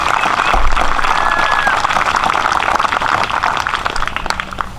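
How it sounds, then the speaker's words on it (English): An outdoor crowd at a Memorial Day parade ceremony in Lowville applauds the band, a broad, continuous patter of many hands fairly close, fading slightly toward the end. "let's give another round of applause for the band"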